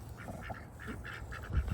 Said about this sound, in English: This is the ducks we got right now.